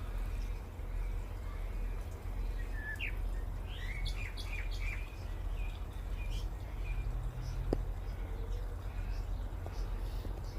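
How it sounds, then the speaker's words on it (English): Bird calls beside a garden pond: a few short chirps and whistled notes over steady outdoor background noise, fairly faint and scattered through the middle of the clip. "Mother bird."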